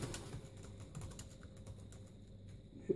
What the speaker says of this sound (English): start trying to type on the keyboard